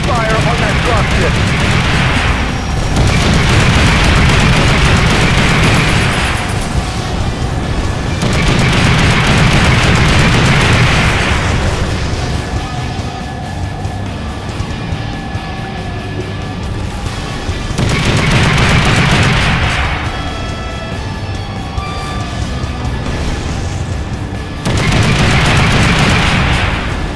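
Explosions and gunfire aimed at a dropship in Duke Nukem Forever: heavy booming bursts come in waves, loud and close, with lulls between them and game voices speaking over the blasts.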